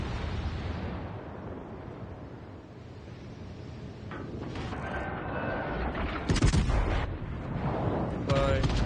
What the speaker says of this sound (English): I'm going to go ahead and start giving him a full broadside